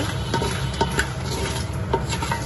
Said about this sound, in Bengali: মরিচগুলো একটু ভেজে নিচ্ছি